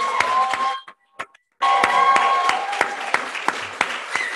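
A church congregation at an Easter service applauds with a dense burst of close hand claps, briefly cutting out before resuming strongly with sharp individual claps over a sustained tone.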